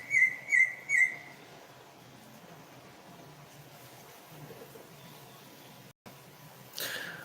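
Outdoors, three clear, close bird chirps ring out in quick succession at the start, then fade to quiet ambient noise with a soft brief rustle near the end.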